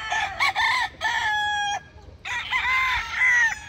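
Several broodcock gamefowl roosters, leopard hatch birds, crow one after another in loud overlapping calls close by, with brief pauses between the drawn-out crows.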